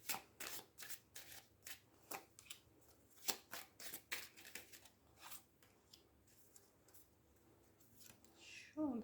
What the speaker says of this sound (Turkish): Bakın kartları karıştırıyorum.